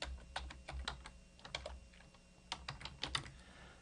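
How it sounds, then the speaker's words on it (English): Close typing on a computer keyboard while entering a cell name in a spreadsheet, quick irregular clicks in two short bursts with a brief pause between, no talking. "I'm going to type in bonus rate."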